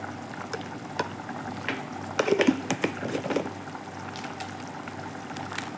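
Chicken curry bubbling in a pot, soft irregular bubbling and popping close by with a few louder gurgles in the middle, no talking.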